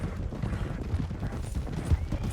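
Horses' hooves clopping at a steady trot in Red Dead Redemption 2, a fairly quiet, low rhythmic patter of several horses moving together, with faint gear-like rattles.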